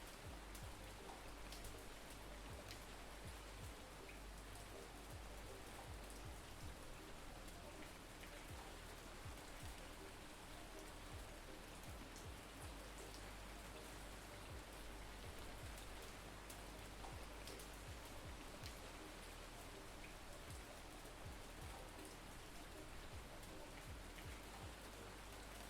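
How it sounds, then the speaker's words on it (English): Heavy rain in the fishing game Ultimate Fishing Simulator 2 pours down as a steady, loud, unbroken hiss on surfaces, with no voices throughout. "the rain doesn't need to be that fucking loud"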